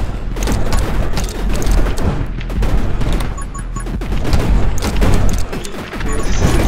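Dense, loud barrage of explosions and rapid gunfire from the video game 20 Minutes till Dawn, with a grenade launcher and splinter shots booming continuously through the whole stretch.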